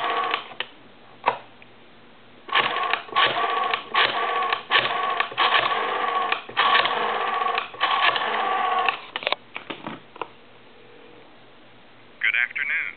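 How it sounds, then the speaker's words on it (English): Bursts of mechanical clicking and whirring, like a Western Electric rotary telephone dial spinning and returning, repeat in uneven clusters over a narrow, telephone-line sound. "I want to go ahead and dial,"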